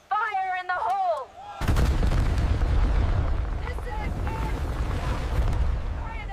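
An explosive blast in a gold mine erupts with a sudden heavy boom, followed by a rumbling roar of debris and wind noise. A brief shout comes just before it.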